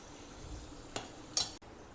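Cooked rice with lime juice squeezed in is stirred in a pan for lemon rice, giving a quiet scrape, a short clink and a brighter utensil knock, with soft background noise in between.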